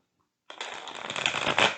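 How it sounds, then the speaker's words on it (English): A stiff new tarot deck is shuffled by hand after a brief silence, giving a dense, continuous papery riffle that builds in loudness and stays close, with no voice over it. "just shuffle a little bit more because these really feel stiff."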